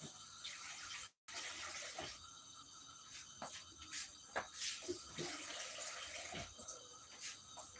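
Tap water running into a cooking pot while it is rinsed out in a home kitchen, a steady faint splashing stream with small clatters, briefly cut off near the start and otherwise continuous.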